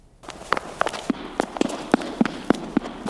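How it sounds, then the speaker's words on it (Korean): Quick footsteps run up a stairwell, about a dozen sharp, evenly spaced thuds echoing in an enclosed space, fairly close and loud. "이거는 누군가 빌라 계단을 뛰어가는 것 같은 발소리인데요"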